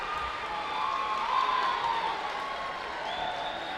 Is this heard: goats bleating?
no